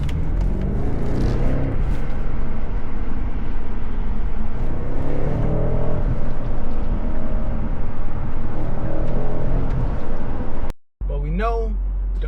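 A BMW's engine and exhaust drone continuously from inside the car with the windows up, a loud, steady rumble that cuts out abruptly near the end.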